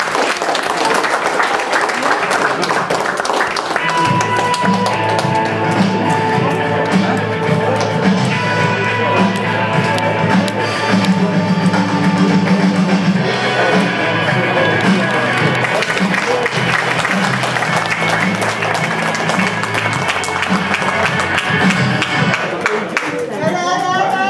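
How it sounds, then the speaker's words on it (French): Crowd applauding a football club president at a match ground, steady dense clapping mixed with cheering and voices for the whole stretch, under music-like tonal content throughout. "on peut applaudir notre président pour le terrain"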